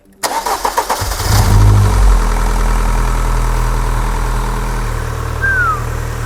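A 25-year-old Rover K-Series car engine cranks with a rapid chattering whirr, catches and roars up, then settles into a steady, close idle for several seconds.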